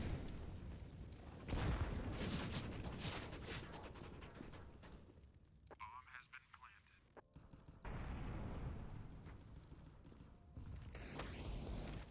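Rapid gunfire bursts from a P90 submachine gun in a first-person shooter match, loud and clattering in the opening seconds and again near the end, with game mechanisms and clicks between, mixed under people talking.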